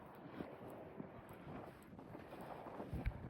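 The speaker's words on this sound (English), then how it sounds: "It's windy as fuck." Outdoor wind buffeting a microphone during a walk, a low, continuous rumbling roar with gusty swells and a few soft thumps, fairly quiet and with no talk over it.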